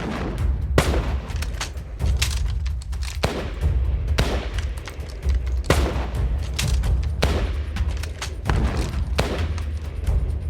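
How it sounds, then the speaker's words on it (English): Gunfire fills a battle reenactment of the Wairau clash from the NZ Wars: repeated sharp shots and volleys crack out at uneven intervals over about ten seconds, loud and close, with low booming rumble beneath and no talk. "So from then on, the firing starts."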